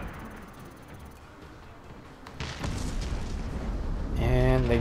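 Mortar strikes called in during an online multiplayer match of Medal of Honor: Warfighter: after a quieter stretch, a heavy rumbling barrage of booms swells and holds loud to the end, with voices in the background.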